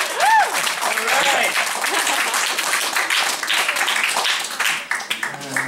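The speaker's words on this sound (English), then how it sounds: "Ladies and gentlemen, please give a warm round of applause for Kevin Carter." An audience gives a warm round of applause at a live book-report reading, steady dense clapping filling the room throughout, with some voices and cheers mixed in.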